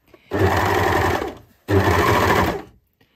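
A sewing machine stitches the side seam of a circular skirt with a one-centimetre seam allowance, two loud, even runs of rapid stitching separated by a short pause, alone and close.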